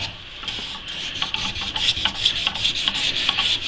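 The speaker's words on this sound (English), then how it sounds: "So this is basically just a tedious process of sanding, and think of it like draw filing." A salvaged pallet-wood knife handle is sanded by hand in close, rhythmic rasping strokes, steady and loud with no talking.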